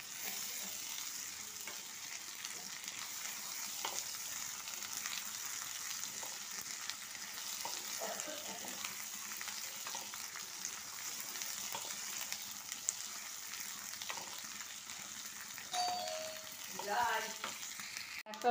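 Half-fried onion with four green chillies and ginger-garlic paste sizzling in a pan, a steady soft frying hiss broken by light stirring scrapes and a few louder clatters near the end; no talking.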